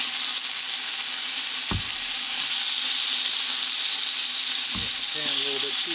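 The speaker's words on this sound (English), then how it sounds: "just add a little bit of oil into it. And we're going to add some of our beef chunks." Beef chunks dropping into hot oil in a pan give a loud, constant frying sizzle throughout, with a couple of sharp knocks from the pan or spoon and a brief voice near the end.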